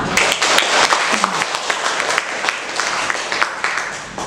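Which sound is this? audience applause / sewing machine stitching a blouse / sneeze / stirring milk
audience applause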